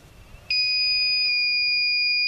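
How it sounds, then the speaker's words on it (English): A 750 watt power inverter sounds a sharp, continuous high-pitched alarm tone that cuts in abruptly and holds steady when a 900 watt coffee maker is switched on, loud and close after a quiet start. "you can hear the alarm go off instantly, and the control box actually shuts the power off"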